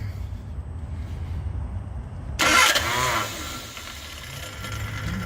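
A Morris Minor van fitted with a new capacitor discharge ignition cranks briefly and catches, the engine bursting into a loud start and then settling into a steady idle close by.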